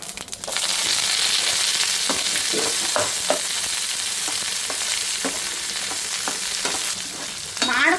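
Onions, green chillies and curry leaves frying in hot oil, a loud constant sizzle with scattered crackles and stirring scrapes, flaring up briefly at the end.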